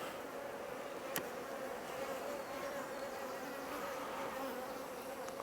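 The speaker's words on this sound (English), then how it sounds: "The bees are generally very calm." Honey bees buzz steadily in a close, even drone while a hive is opened for inspection after a nuc transfer, with no voices over the hum.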